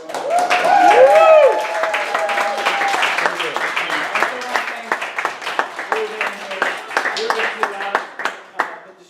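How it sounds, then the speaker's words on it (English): An audience claps after a play reading, starting with loud cheers and whoops over dense applause, then thinning into scattered, individual claps as voices talk over it. "Let's give a big round of applause for everyone."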